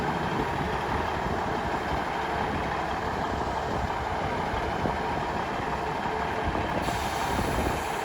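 A train pulls out of Pontefract station, a steady low rumble and rolling clatter of wheels on rails, fairly close and continuous, with no talk.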